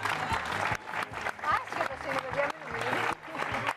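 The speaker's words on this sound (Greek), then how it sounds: "θέλω ένα πολύ θερμό χειροκρότημα" Audience applause at a stage show, a steady patter of clapping from a crowd with voices talking over it.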